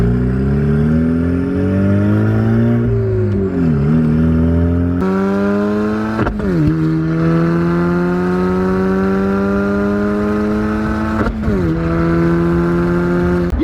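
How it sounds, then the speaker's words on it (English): Turbocharged four-cylinder car engine with a 3-inch exhaust off the turbo, driving on a road; loud, close engine note climbing and falling through several gear changes, revving up steadily between sharp shifts, with no talking. "it doesn't sound like a V8. It's a 4-cylinder engine."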